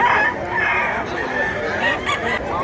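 A rooster crows at a busy open-air market in Mantalungon, Barili, Cebu, a loud drawn-out call with repeated crowing and clucking nearby amid crowd murmur.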